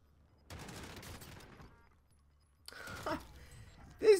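Bursts of rapid automatic gunfire in the video game Warzone, two fast rattling volleys separated by a short pause, fairly close, with a brief sharp sound at the end.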